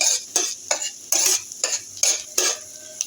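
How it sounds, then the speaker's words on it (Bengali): Chopped garlic fries in butter and oil, a bright sizzle that surges with each of about eight rhythmic stirring strokes, close by and with no voices. "তেলের সাথে তো রসুন কুচিগুলো দিয়ে দেবো এটা একটু লালচে লালচে করে ভেজে নেবো রসুনটাকে"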